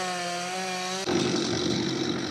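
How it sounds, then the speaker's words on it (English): A chainsaw engine hums at a steady idle, then suddenly revs up into a loud, rough buzz as it bites into wood. "He's just gone from tree to tree with his chainsaw."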